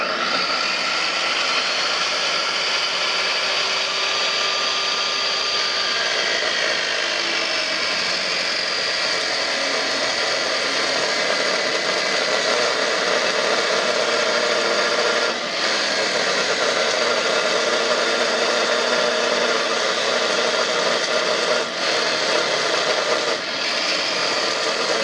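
Wood stock being sanded to length, a steady, even broadband rasp that runs unbroken for the whole stretch, moderately loud with a few brief dips and no talking.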